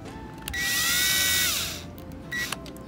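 A cordless power drill drives screws into an RV water pump: one sustained whirring run of about a second with a rising then falling pitch, then a short second burst, close and clear.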